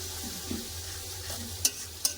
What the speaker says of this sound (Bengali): এবার তেল ছাড়া পর্যন্ত খুব সুন্দর করে কষে নেব